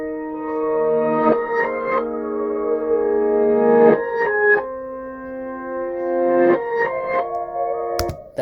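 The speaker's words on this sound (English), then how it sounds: "let's hear how that sounds reversed" Reversed, swelling synth chords in a hip-hop beat, sustained tones blooming in several phrases with heavy effects and reverb, then a sharp transient near the end; no voices.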